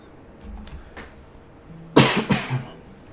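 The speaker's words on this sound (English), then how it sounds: "sorry about the coughing" A couple of soft throat noises, then two or three sharp coughs in quick succession, close by.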